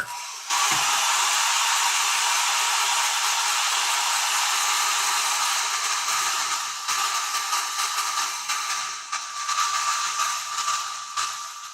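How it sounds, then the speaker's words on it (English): A hair dryer roars steadily at close range as it dries paint on an old-school Ork Tinboy miniature, a loud continuous hiss that starts abruptly and runs without pause. "Let's hit the dryer."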